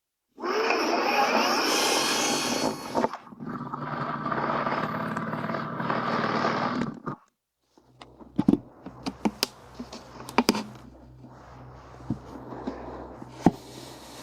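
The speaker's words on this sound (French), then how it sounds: "faut percer un trou de 25 mm juste ici afin que nous puissions faire passer une partie de ce conduit d'installation EN25" A power drill fitted with a 25 mm flat spade bit bores a hole for a self-watering planter conduit, running in two long, steady whirring bursts, then stopping, followed by scattered clicks and handling knocks.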